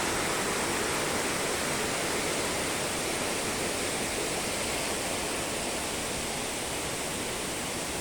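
Water of an underground river flowing out of the ground among teak trees, a steady broadband rushing roar with no breaks, close and dominant.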